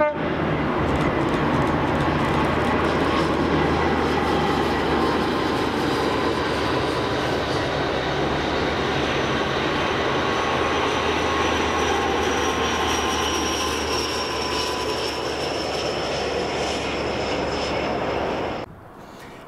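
Blue Pullman train led by class 43 power car 43046 climbing toward Beattock Summit, a loud sustained diesel roar with a high whine as it passes close by, cutting off abruptly near the end.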